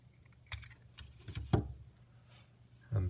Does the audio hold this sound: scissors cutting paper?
yes